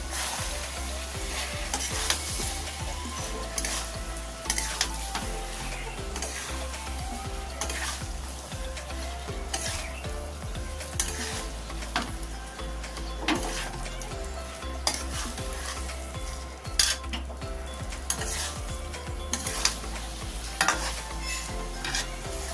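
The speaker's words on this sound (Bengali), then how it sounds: "আবারও ভালো করে নাড়াচাড়া করে মশলাটা মিশিয়ে নেবো লতির সাথে" Taro stems stirred with spices in a frying pan, with continuous loud sizzling and frying throughout and repeated scraping strokes of the spatula.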